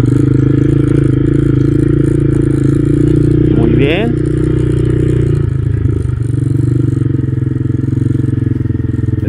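A Vento Screamer 2022 250 dual-purpose motorcycle on spoke wheels rides off-road with a steady, loud engine drone throughout, a brief revving rise mid-clip, and some clatter, under a short spoken remark.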